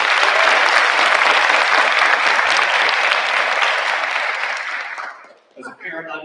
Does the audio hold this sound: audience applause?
yes